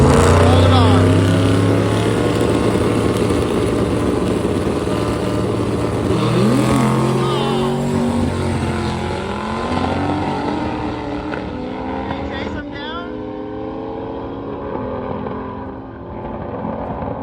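A turbocharged motorcycle racing a Dakota truck at a race week, with loud engines roaring and shifting pitch as they accelerate past, the sound fading and thinning toward the end while a voice talks over it.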